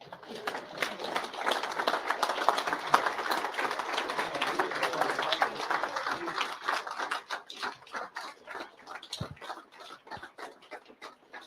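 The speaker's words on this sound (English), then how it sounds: "can we stand and applaud for this group" An audience at a live show stands and applauds a group, producing a steady wash of clapping that swells and then thins into scattered claps toward the end.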